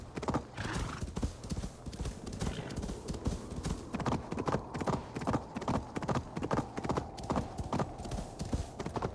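Horse hooves from the Assassin's Creed Valhalla video game, a steady rhythmic clip-clop of galloping or trotting, loud and continuous, with a whinny early on and no talk.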